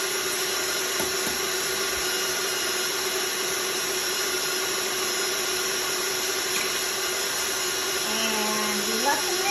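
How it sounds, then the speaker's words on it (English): An electric mixer runs steadily as it beats eggs one at a time into coconut pound cake batter with oil in a bowl. The close, even whine holds throughout with a brief faint voice. "And we let them mix up in the bowl, getting in all of the mixture of the oil."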